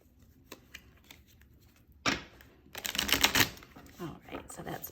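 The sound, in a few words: shuffling tarot cards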